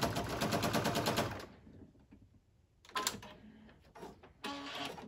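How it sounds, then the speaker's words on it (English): A sewing machine stitches down the edges of a pleated fabric face mask, with a rapid mechanical chatter at the start, then quiet, then shorter bursts of stitching returning. "all I'm going to do is stitch the edges down"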